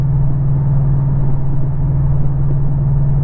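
A Porsche 718 Cayman GTS with a Fabspeed Supercup exhaust cruises in sixth gear at about 65 mph, producing a loud, steady low drone and rumble from inside the cabin with no one speaking.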